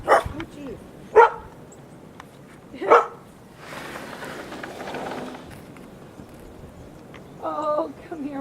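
A dog barks a few times outdoors during a snowy blizzard, with short, sharp bursts spaced apart and heard at moderate distance, followed by crunching movement through deep snow and a voice talking near the end.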